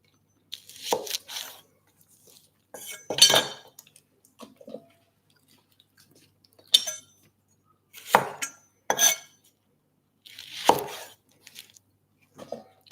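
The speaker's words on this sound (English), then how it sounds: "I'll just let you listen to the pleasurable sounds of me chopping for a minute." A knife slices through fresh Brussels sprouts on a cutting board in a series of crisp, separate chops with quiet pauses between them, up close and with no talking.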